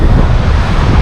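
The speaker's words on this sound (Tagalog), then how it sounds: "maganda yung alon dito" Strong wind blowing across the microphone mixes with the steady roar of ocean surf at Bagasbas Beach. The noise is loud and continuous, with no voices.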